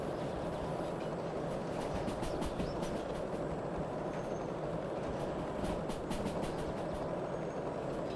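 A steam locomotive rolls along the rails in the train simulator game Derail Valley, with a continuous rumbling roar and faint rhythmic clatter that holds steady throughout, with no talking.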